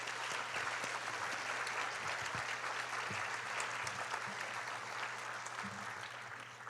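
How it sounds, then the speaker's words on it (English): Sustained audience applause honors award winners at a Martin Luther King Jr. convocation, dense steady clapping from a large crowd that eases slightly toward the end, with a low hum beneath. "Can we just give everybody who just won an award another round of applause,"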